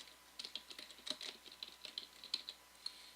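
Rapid clicking keystrokes on a computer keyboard as a cadet's rank and name are entered, a close, quiet burst of irregular taps with no talking.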